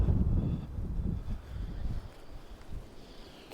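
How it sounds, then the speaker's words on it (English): Winter wind buffets a microphone on a seaside boardwalk, gusty low rumbling that is strongest at first and then eases into uneven, fluttering bursts. "I'm going to get out of the wind here around the wall."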